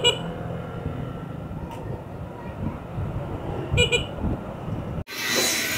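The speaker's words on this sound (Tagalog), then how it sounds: "Medyo payat yung tunog at medyo hindi ka pansinin kapag bumubusina ka." The stock horn on an ATR 160 QJ motorcycle gives a few short, thin honks over steady background noise and a voice, before a sudden louder burst cuts in at the end.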